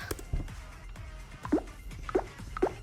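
A Scratch "booping bop" sound effect: short, soft plopping boops repeating at irregular intervals over a quiet background, fairly close and clean.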